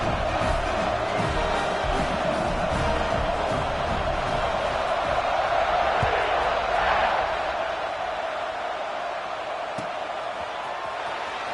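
A packed football stadium crowd at kickoff of an LSU vs Auburn game. A dense, continuous roar holds loud throughout, swells briefly near the middle, then eases slightly.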